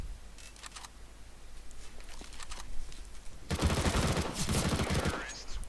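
Rapid bursts of spray-fire from the CS:GO video game, a loose flurry of shots building into a dense, loud volley in the second half, with no talk over it.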